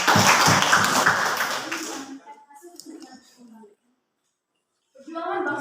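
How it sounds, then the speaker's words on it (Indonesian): Brief burst of clapping for a school group presentation in an Indonesian classroom lesson, dense and close for about two seconds before dying away into quiet, with faint sounds and a return of room noise at the end. "Tepuk tangan untuk kelompok 1."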